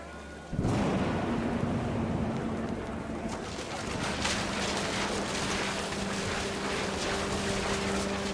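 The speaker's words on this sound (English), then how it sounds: "The rain came down in buckets then" Heavy rain pours steadily in the game What Remains of Edith Finch, a dense roaring wash after an abrupt start, with a low rumble of thunder underneath throughout and no voices.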